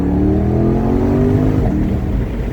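A Chevrolet C8 Corvette Stingray accelerates hard through a gear, its engine rising in a loud, steady drone heard from inside the car, with no talk.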